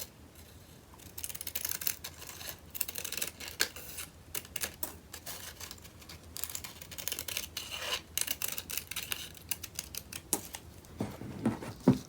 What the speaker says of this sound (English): I'm going to cut in a curved line.